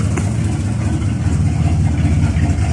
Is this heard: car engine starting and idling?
yes